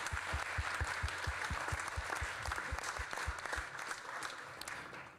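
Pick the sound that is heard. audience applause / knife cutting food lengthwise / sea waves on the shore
audience applause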